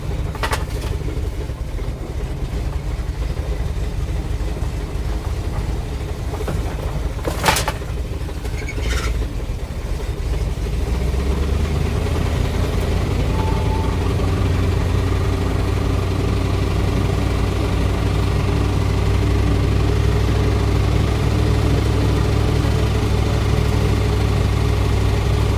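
A 1980 Dodge W200 truck runs on a stone surface, with a steady low engine rumble that settles into a smooth idle after a few clunks and knocks early on; no one speaks.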